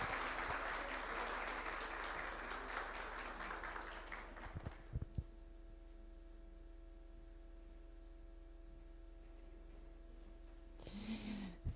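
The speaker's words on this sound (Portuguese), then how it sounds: "E uma salva de palmas, né, para as nossas duas painelistas" Audience applause for two women's-violence panelists at a legislative event fills the first half with dense, fairly loud clapping, then cuts off into a quiet, hissy room with a few knocks and a brief burst near the end.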